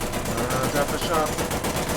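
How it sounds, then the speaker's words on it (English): A War Thunder US heavy tank fires its machine guns in a continuous, loud, rapid burst that runs without a break for the whole two seconds. "Machine guns though on this are strong."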